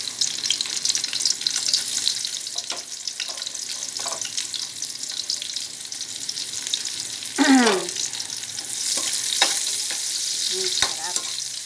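Garlic and onion sautéing in a pan for Filipino mung bean stew (ginisang monggo), a loud steady sizzle with scattered scrapes and stirring clinks from the spatula, close by.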